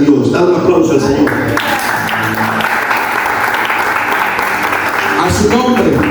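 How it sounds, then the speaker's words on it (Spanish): Congregation applauding in a church during an evangelist's sermon, loud sustained clapping lasting several seconds, with a voice speaking over it at the start and again near the end. "Dale un aplauso al Señor."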